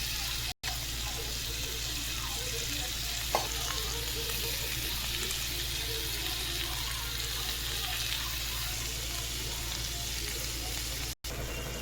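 Tomato and spice powders fry in a pan for a mushroom butter masala, giving a steady, soft, fairly faint sizzle that runs throughout with little variation and no talking.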